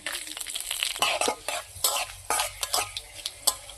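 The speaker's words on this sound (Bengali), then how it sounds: "তেল গরম হয়েছে এখন আমি দেব দুটা তেজপাতা শুকনো লঙ্কা ফোড়ন একসাথে দিয়ে দেবো" Bay leaves, dried red chillies, cinnamon and cloves hit hot oil for a village-style cauliflower curry, giving a close crackling sizzle broken by repeated sharp spatula scrapes and pan clatter, with no talking.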